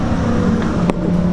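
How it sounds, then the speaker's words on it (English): Harley motorcycles rumble past a garage in a steady, loud, low engine drone that holds for the whole moment, with no voices. "Yeah, the Harleys are going by."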